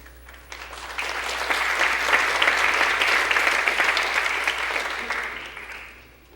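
Steady applause from a town hall audience, building quickly and sustained for several seconds before tapering off, a broad wash of clapping with no voices over it.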